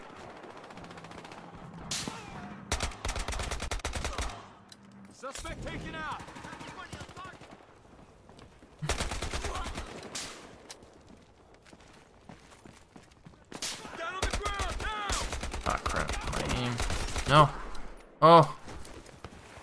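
Bursts of rapid automatic gunfire from a gun in Battlefield Hardline, coming in several separate volleys with quiet gaps between them, a player's voice talking over parts of it.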